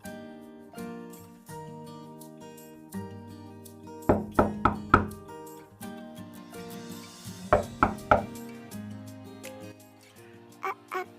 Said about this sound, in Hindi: कोई दरवाजा नॉक कर रहा है, दरवाजा जाके खोल दीजिए पहले।